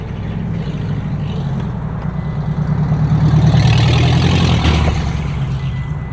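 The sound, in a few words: car engine and exhaust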